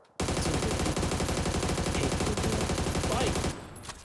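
Rapid SMG hip fire in PUBG, a dense unbroken burst of gunshots running loud for about three seconds before cutting off into quieter game ambience.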